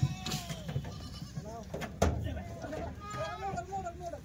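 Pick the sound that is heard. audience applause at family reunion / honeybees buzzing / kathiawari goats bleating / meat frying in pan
kathiawari goats bleating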